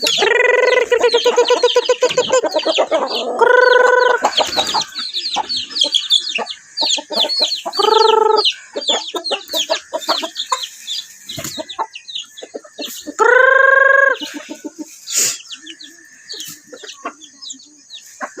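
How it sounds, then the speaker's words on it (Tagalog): Chickens cluck and squawk busily throughout in the morning before feeding, with a rooster-like harmonic call bursting out several times over the constant chatter of the flock. "So mamahog ta sa mga manok."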